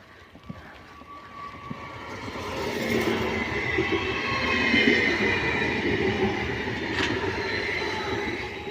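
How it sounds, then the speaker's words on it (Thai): A train rumbles past through snowy Norway, growing louder midway with metallic squeals and rattling wheels, then staying steady as it rolls on. "รถไฟมา"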